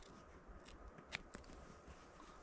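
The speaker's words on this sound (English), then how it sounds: "And then take my scissors and just cut off" Scissors snip through excess canvas while a wood stove tent is made outdoors in the North Idaho woods, giving a couple of faint, crisp cuts against a quiet, hissy background.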